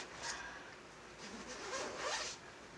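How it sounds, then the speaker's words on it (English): A mattress cover zipper is slowly pulled open in a few drawn-out strokes, quiet and close, with brief pauses between pulls. "we're going to unzip this"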